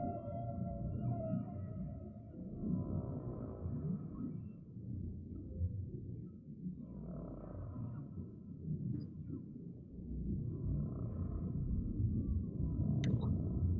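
Low, drawn-out whale calls moan and swell in slow waves over a deep rumbling bed inside a guided meditation soundscape, rising again toward the end with a faint high tone.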